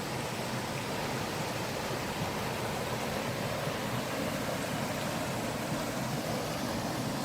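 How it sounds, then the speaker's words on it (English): A large waterfall in a wooded Welsh valley, pouring into a shallow pool and producing a loud, steady, unbroken roar of rushing water that fills the whole clip. "Got a large waterfall there."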